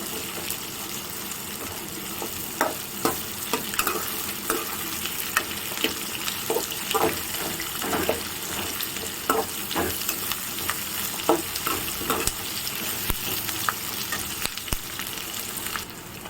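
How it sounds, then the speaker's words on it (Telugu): Onions sizzle in hot oil in a pan while a spoon stirs them, making a steady close frying hiss punctuated by repeated scraping clicks throughout. "ఎర్రగడ్డ వేసినాక ఇట్లా కలుపుకుంటున్నాను. ఎర్రగడ్డ బాగా వేగే వరకు కలుపుకోవాలండి."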